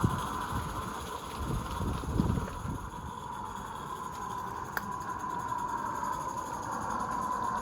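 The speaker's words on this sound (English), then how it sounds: "brecht, the signaller, his sandwiches before taking the rest of the stock to Kirschbaumimwald International Rail Freight Terminal, taking the branch here to the right" A freight train runs along the line and takes a branch to the right, with a steady rolling rumble, a burst of wheel clatter early on and a thin, sustained metallic squeal over the top.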